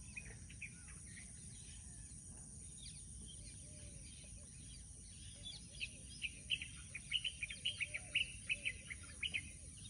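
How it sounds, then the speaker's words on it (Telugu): Birds chirp and tweet in a village forest, with a cluster of sharper calls toward the end over a steady buzz of insects. "చూడండి గైస్, అక్కడ ఉంది బర్డ్స్."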